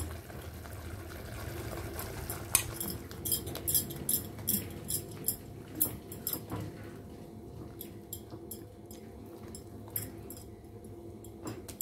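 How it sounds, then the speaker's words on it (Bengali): A spoon stirs onion, ginger, garlic, poppy seed, melon seed and tomato paste together in a pan, making soft, faint, irregular scraping and squelching taps in a quiet kitchen, with no talking. "পেঁয়াজ আদা রসুন, পোস্ত, চারমগজ আর টমেটো বাটা সব একসঙ্গে দিয়ে মিশিয়ে দিচ্ছি।"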